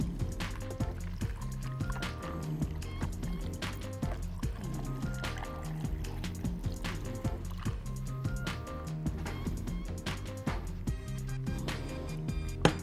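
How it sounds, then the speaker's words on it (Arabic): Iced tea flavored with lemon and ginger is poured into a glass, a steady liquid trickle running through the whole stretch beneath continuous background music. "ومن هنا هنزل بالشاي."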